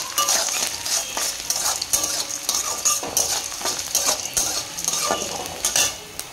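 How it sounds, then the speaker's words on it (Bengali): Dried chilli, onion, urad dal and chana dal fry in a pan with a continuous sizzle, while a spatula stirs and scrapes against the metal in repeated close, rhythmic strokes. "একটু লাল লাল করে ভাজা এগুলো দিয়ে দিচ্ছি শুকনো লঙ্কা, পেঁয়াজ, বিউলির ডাল আর ছোলার ডাল"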